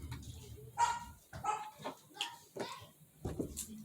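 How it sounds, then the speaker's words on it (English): A dog barks and yips in short, uneven bursts, faint and somewhat distant indoors, with scattered background noise between the barks. "He making my dog bark."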